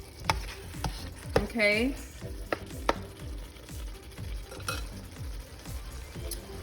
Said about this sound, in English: And I just let this saute for a little bit.